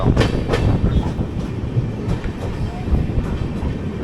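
Train running on tracks on the line near Vapi, a steady rumble with rhythmic clickety-clack wheel beats passing over rail joints, fairly loud and close.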